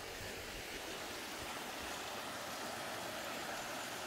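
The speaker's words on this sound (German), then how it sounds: "Ist doch ziemlich ein wilder Bach." A wild stream rushing along a hiking trail near Vaumarcus by Lake Neuchâtel, a dense, steady roar of flowing water that fills the whole stretch evenly and without pause.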